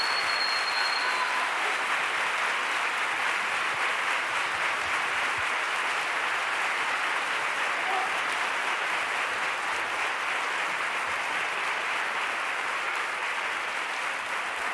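A large audience applauds the musicians after a night of copla songs, dense, even clapping that holds steady and loud for the whole stretch with no voices over it.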